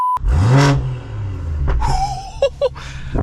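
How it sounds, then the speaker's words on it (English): A BMW M240i engine cranks and fires up with a loud bark, settles to a deep idle, then gives a few short sharp revs that rise and drop, heard from inside the car. "get this car started, like so"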